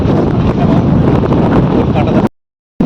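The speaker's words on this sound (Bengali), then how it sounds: "এত ঠান্ডা হাওয়া চলছে" Cold wind blasting into the microphone outdoors near a pond and date palm, loud continuous rumbling buffeting that cuts out abruptly before a brief return.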